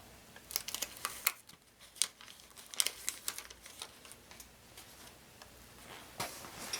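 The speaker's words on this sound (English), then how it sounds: "The next step is you want to peel off the backing." Paper backing is peeled off fusible web appliqué fabric, giving soft, close crinkling and light tearing rustles in irregular bursts against a quiet room.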